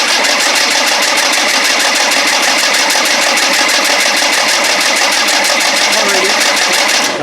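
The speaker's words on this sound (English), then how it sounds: "just to crank some oil into this turbocharger" A Land Rover 300Tdi diesel engine cranks on the starter without firing, a loud, fast, even mechanical chatter that runs unbroken for several seconds and then stops.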